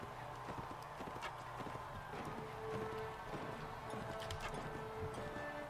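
Horse hooves clip-clop steadily in the Mount & Blade Warband game as a mounted rider moves along, a continuous rhythmic patter with occasional whinny-like tones over a busy game soundscape.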